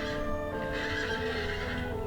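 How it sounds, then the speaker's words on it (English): A wild Przewalski's horse on the Mongolian steppe gives a loud, sustained neigh, with hoofbeats clopping underneath throughout. "the Przewalski's horse, the last truly wild horse on Earth, must now share the ever-dwindling water sources"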